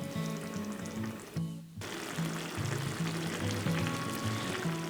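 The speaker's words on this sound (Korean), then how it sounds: "부글부글 끓는 게 꼭 마그마 같죠?" Tomato shakshuka sauce simmering in a pan, with dense bubbling, popping and sizzling that keeps up steadily throughout at close range, with no voices.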